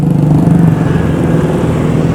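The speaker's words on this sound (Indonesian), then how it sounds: "Ini punya motor keren." A motorcycle engine drones loudly and steadily on a street in Batam, Indonesia, a close continuous rumble with no voices.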